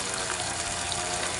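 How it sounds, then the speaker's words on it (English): Steady rushing water draining from a fish tank holding fry and fingerlings, a loud continuous gush close by with no pauses. "start draining this tank"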